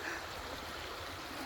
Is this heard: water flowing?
yes